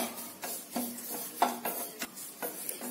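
Curry leaves being stirred in a pan while they dry-roast for homemade Karnataka-style bisi bele bath powder, heard as a steady series of soft scraping strokes roughly every half second, close and fairly quiet, without talk.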